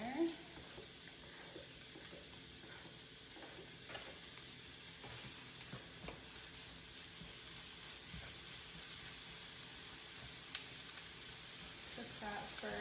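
A shallot tossed into a hot pan already cooking a tofu breakfast scramble, giving a soft, steady sizzle with a few faint stirring clicks, quiet and close.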